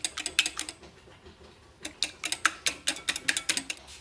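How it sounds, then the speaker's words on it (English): Egg yolks being whisked in a bowl, giving a quick run of sharp, rhythmic clicking strokes near and fairly loud, with a brief pause partway through. "you just have to whisk it very well"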